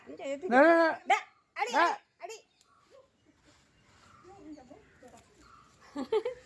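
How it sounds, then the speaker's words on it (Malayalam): A dog barks a few times close by, sharp and loud, then quieter rustling and faint sounds follow with a brief bark near the end. "ആ പട്ടിയുണ്ട് എല്ലാത്തിലും ഉണ്ട് പട്ടി"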